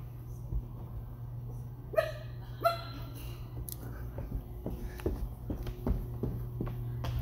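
A dog barks several times in short yips and woofs, fairly close, over a steady low hum of indoor equipment; the barks are scattered and uneven.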